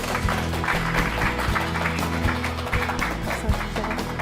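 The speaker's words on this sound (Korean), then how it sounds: "큰 박수로 맞이해 주시기 바랍니다" Audience applause welcoming a professor who is an expert on Admiral Yi Sun-sin's leadership onto a lecture stage, a dense continuous round of clapping mixed with music or low tones, fairly loud throughout.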